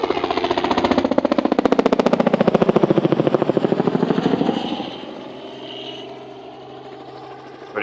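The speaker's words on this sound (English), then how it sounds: "There's a helicopter. I don't know if it's showing up. The sprayer one." A low-flying crop-spraying helicopter passes nearby, its rotor chopping in a loud rapid pulse that swells and then fades into a steadier distant drone.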